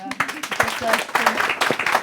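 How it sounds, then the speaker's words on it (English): Audience applause at the close of a talk session, a dense patter of clapping mixed with voices talking underneath, moderately loud and steady throughout. "I think round of applause for"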